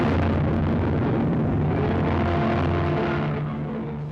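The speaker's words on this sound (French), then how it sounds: "une terrible explosion se produit à l'arrière du dirigeable." A deep, roaring blast from the Hindenburg airship exploding at its stern, heard on an old archival newsreel; a dense, sustained rumble fills the whole stretch at high volume and begins to fade slightly near the end.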